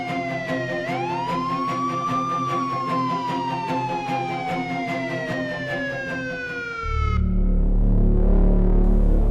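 A police car siren wailing loud and close, its pitch sweeping up then sliding slowly down before cutting out into a rumbling low noise.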